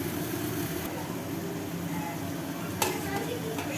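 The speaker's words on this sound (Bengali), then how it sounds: "আর কড়াইতে কুমড়ো ভাজা" Pumpkin slices fry in a wok with a steady, soft sizzle and crackle, fairly faint and continuous, with a brief clatter near the end.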